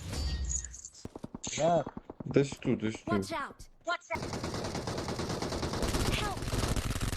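Rapid bursts of gunfire in PUBG Mobile, single shots and fast volleys, crackle loudly while voices talk over the action.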